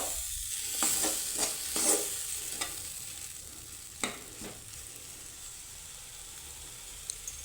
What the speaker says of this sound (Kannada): ಹಾಕ್ಕೊಂಡ್ಬಿಟ್ಟು ಚೆನ್ನಾಗಿ ಮೀಡಿಯಮ್ ಫ್ಲೇಮಲ್ಲಿ ಇಟ್ಕೊಂಡ್ಬಿಟ್ಟು ಫ್ರೈ ಮಾಡ್ಕೋಬೇಕು.